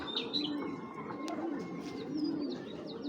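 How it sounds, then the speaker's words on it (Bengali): Pigeons coo in soft repeated low calls over faint chirps, with an occasional brief wing flutter, close and steady throughout. "কবুতর হলে এত বড়, ওরে ধরতেও আমার কষ্ট হইতেছে"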